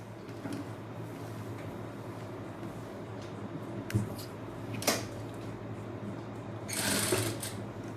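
A sewing machine lock-stitches a narrow pant seam, a steady continuous whir with a few brief clunks and rustles of fabric being handled.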